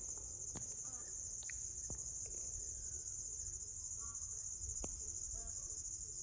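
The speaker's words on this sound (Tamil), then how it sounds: "என்ன பூச்சி கட்டுதுன்னு தெரியல" An insect chirps outdoors at dusk, a continuous high, shrill trill that holds steady throughout, with a few faint scattered clicks and rustles beneath it.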